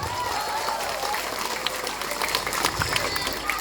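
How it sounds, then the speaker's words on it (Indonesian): A crowd at a Maulid religious lecture gathering in Ciuya, Bogor, claps in a steady, moderately loud burst of applause that carries on evenly with faint voices mixed in. "Tepuk tangan untuk masyarakat Ciuya."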